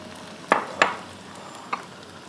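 Four tomatoes dropped into lightly fried onions in a pan for chicken karahi, giving a few sharp clattering hits over a low steady hiss, close by with no talk.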